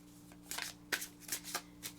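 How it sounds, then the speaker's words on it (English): Close, quiet shuffling of tarot cards, several soft papery riffles and slaps at uneven intervals over a low steady hum. "Alright, I'm going to shuffle."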